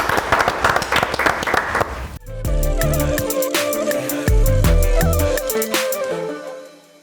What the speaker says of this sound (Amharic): እኔ ማጨብጨብ ይሻለኛል።